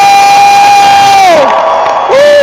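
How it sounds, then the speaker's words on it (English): A crowd at the No Kings rally in Boston cheers loudly and continuously, with sustained whoops and shouted voices rising and falling over the roar. "So let's give a cheer for every patriot who showed up"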